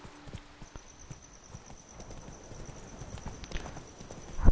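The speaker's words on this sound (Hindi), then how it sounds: "अरे हमारे पास तो रॉच है, आजा रॉच" A horse gallops in The Witcher 3, with rapid rhythmic hoofbeats that start faint and grow steadily nearer and louder, ending in a heavy thud.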